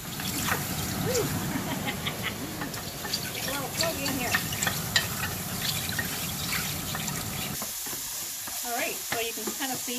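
Mushrooms browning in a hot pot on high heat, a soft continuous sizzle with occasional stirring scrapes and moisture crackles, fairly quiet throughout.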